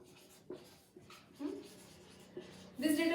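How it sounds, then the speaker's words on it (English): Hand-writing of the words peroxide value, probably with a pen or marker, heard as soft irregular scratching strokes in short bursts, ending in a louder squeaky stroke, close and fairly quiet with no talk. "here I will write peroxide value"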